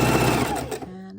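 A sewing machine stitches a triangle border seam with a fast, buzzing run that is loud and close, then slows and stops near the end, with a faint voice in the background.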